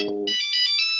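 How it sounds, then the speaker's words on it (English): A phone ringtone chimes loudly and steadily, a brief low tone giving way to a sustained bright, repeating electronic ring that fills the whole moment. "she keeps calling your phone"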